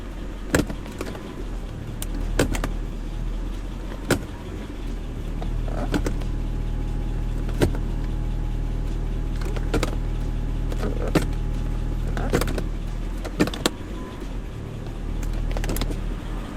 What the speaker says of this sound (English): So what I like to do is get in the car, run it through all the gears